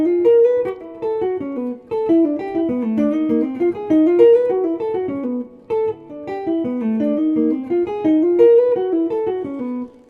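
Clean guitar lick, minor pentatonic lines ascending chromatically over a 2-5-1 in G, plays as fluid single-note phrases in bursts with brief pauses, loud and close, with no talking.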